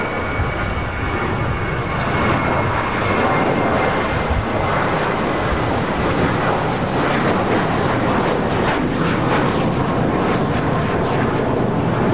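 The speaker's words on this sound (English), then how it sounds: "Green Air A380 Super making that turn, heading over here to the south side." An Airbus A380 jet airliner turning on the ground at LAX gives a steady, loud engine roar with broadband rumble that holds throughout, no talk.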